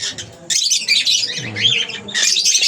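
An Indian ringneck parakeet in a backyard aviary gives shrill, repeated squawks and chirps in short bursts, close and fairly loud, with a brief spoken word mixed in.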